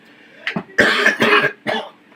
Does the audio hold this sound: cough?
yes